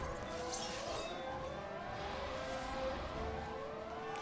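A siren wails in the background, its rising and falling tones sweeping continuously and steadily for the whole stretch at a distance.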